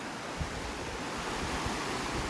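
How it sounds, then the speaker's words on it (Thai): Steady broadband rush of the swift-flowing Mae Rim river in Thailand, continuous and fairly loud, with low rumbling surges underneath and no voices. "น้ำไหลเชี่ยวกราดนะครับ"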